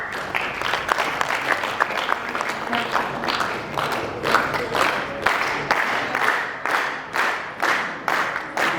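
A church congregation bursts into sustained applause, a dense, rhythmic clatter of many hands that grows more pulsing toward the end, with hints of high ululation mixed in, during a blessing ceremony for a hymn singer.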